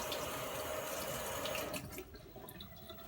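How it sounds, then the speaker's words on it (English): Hot water runs from a kitchen tap over a metal spatula, a steady close splashing rush that thins out and quiets after about two seconds. "I'm going to run hot water over my spatula"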